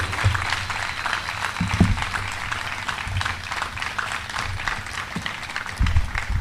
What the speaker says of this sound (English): How about a big round of applause for not only this student, but all of the award winners